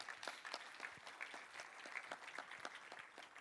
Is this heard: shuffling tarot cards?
no